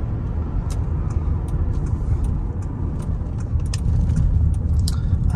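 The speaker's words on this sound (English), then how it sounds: "I even don't mind the sound of the turn signal clicker" Turn signal clicker of a 2010 Lincoln MKX ticking in regular short clicks inside the cabin during city driving, crisp and fairly close above a steady low road rumble.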